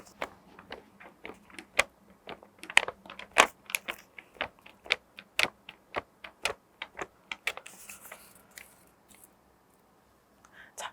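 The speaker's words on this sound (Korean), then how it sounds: "풍속계가 어떻게 돌아가는지 확인해 보세요." A small toy anemometer of paper cups spins in wind fanned with a sheet of thin paper, giving close, dry, irregular clicks and ticks that come in scattered bursts, slowing and spacing out toward the end.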